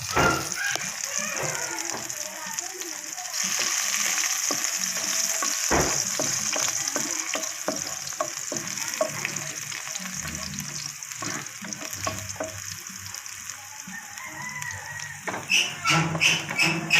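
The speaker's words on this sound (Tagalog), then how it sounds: "Paggigisa na tayo" Garlic sautéing in a hot pan for ginisang munggo with leftover pork lechon gives a steady, close sizzle with crackling bursts, and a voice is faintly present beneath it.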